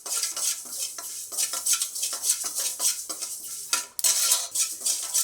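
Sesame seeds roasting and spluttering in a hot pan, with close, repeated metal scraping and stirring clatter over a faint crackle, no talk.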